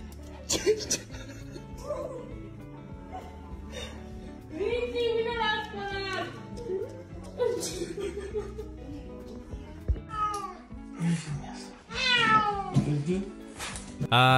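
A cat meows repeatedly in drawn-out, rising and falling cries, close by, with some vocal noises mixed in.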